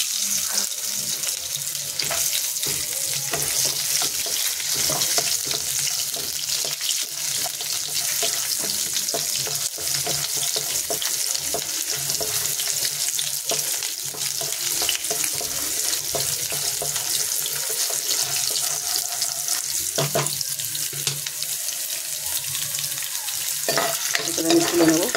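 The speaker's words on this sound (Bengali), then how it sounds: "তেল গরম হয়ে গেছে, দিলাম বাদামটা।" Soaked, peeled peanuts fry in hot oil in a wok, giving a continuous close sizzle with occasional stirring scrapes throughout.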